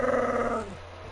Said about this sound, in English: It's Patch growling at my dog.